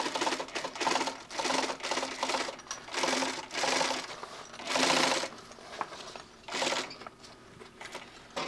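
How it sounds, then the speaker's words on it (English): A cylinder bed binding sewing machine stitches slowly around curves on a tech kit, running in repeated bursts of rapid mechanical stitching separated by brief pauses, close and clear without talk. "these cylinder bed binding machines I find better for going around these types of curves"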